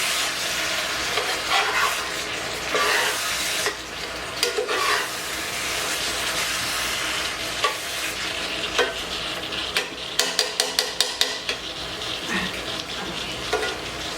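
Candied sweet potatoes caramelizing in butter in a pan, a steady loud sizzle with repeated scraping and tapping of a utensil stirring and pushing the butter, including a rapid run of taps near the end.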